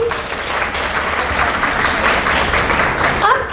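Children and a group in a Montessori classroom clap their hands together, making a dense, steady burst of close applause with a few voices underneath.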